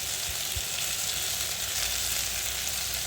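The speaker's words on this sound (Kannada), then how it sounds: "ಜೀರಿಗೆ ಹಾಕಿ ಚೆನ್ನಾಗಿ ಮತ್ತೆ ಕಾಯಿಸ್ರಿ" Cumin, fenugreek seeds, black pepper, poppy seeds and cashews roasting in a pan for a gravy masala, a constant loud hiss of frying close up with a couple of faint low knocks.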